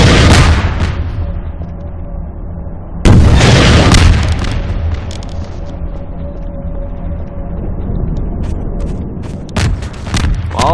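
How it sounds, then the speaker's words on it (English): A vehicle blown up in Half-Life 2, heard as loud booming blasts: a sharp explosion followed by a long rumbling decay, then a further burst of cracks and crackling debris near the end. "if I blow up the vehicle, we should be able to go on"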